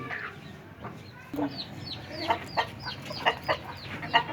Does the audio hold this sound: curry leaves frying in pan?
no